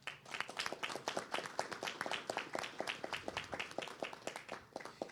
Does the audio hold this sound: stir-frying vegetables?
no